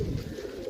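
A brief, low coo from pigeons kept for sale, close and steady for under a second.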